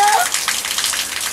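A child splashing water, a loud, close burst of splashy spatter with an adult voice briefly at the start.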